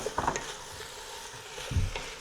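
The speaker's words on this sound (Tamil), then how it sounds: "நறுக்கி வச்சுருக்க தக்காளியை சேர்த்துக்குங்க" Chopped tomatoes go into a pot of minestrone soup with a soft thud and gentle sizzle, followed by a spoon scraping and stirring through the ingredients, close and moderately quiet.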